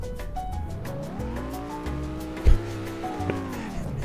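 Engine of a Lamborghini driven in a video game, a steady revving drone with pitch rising and falling across the clip, and a brief thump near the middle; no talking.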